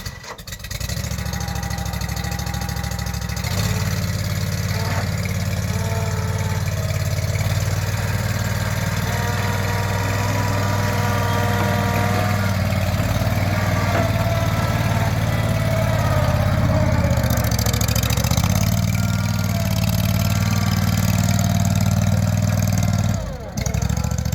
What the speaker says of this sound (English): Start her up and off the trailer.